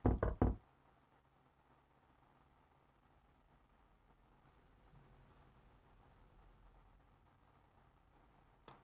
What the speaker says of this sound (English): You hear a soft knock at your door.